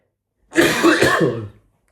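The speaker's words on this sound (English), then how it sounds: "Sorry man, I've got a really, really bad cough." A single harsh, raspy cough with a throaty clearing quality, close to the microphone, lasting about a second before silence.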